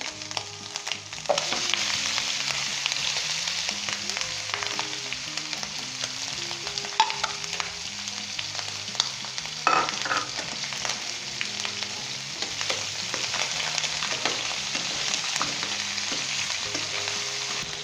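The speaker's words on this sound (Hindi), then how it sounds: "दोस्तों चिकन डालने के बाद 2 से 3 मिनट तक हम इसे अच्छे तरीके से फ्राई करेंगे अदरक लहसुन के पेस्ट के अंदर।" Chicken pieces fry in ginger garlic paste and hot oil for a Lahori turmeric chicken dish, a dense, continuous sizzle with occasional scraping stirs, loud and near, no speech.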